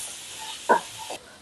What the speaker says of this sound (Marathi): हा कांदा चांगला ट्रान्सफर होऊपर्यंत भाजायचा, लालसर होऊ द्यायचा नाही